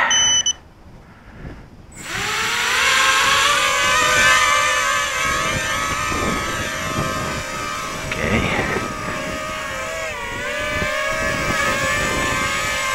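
Tarot 130 quadcopter motors spin up one by one after arming, rising into a loud, steady, high-pitched electric whine with wavering tones that shift as the throttle changes, following a brief beep.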